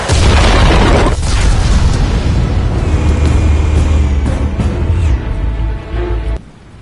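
Loud, booming explosives detonate in a PS4 video game, with a heavy blast and rumbling roar that sustains for several seconds before cutting off abruptly.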